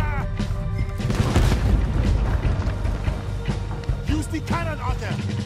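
Cannons boom repeatedly in a Red Dead Redemption 2 battle, loud deep blasts and crashes layered with gunfire and voices talking throughout.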